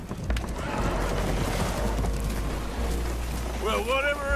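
A spooked horse whinnies loudly near the end over a dense, noisy background of creaking and splashing from a boat taking on water in Red Dead Redemption 2.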